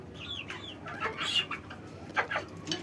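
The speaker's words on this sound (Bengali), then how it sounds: "এই সাইডে অনেক মুরগি" Village chickens raised in a rural yard cluck and squawk in short, irregular bursts at close range, with several birds calling over one another.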